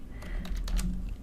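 Quick typing on a computer keyboard, a close burst of several soft, rapid keystrokes over a low background rumble, with no talking.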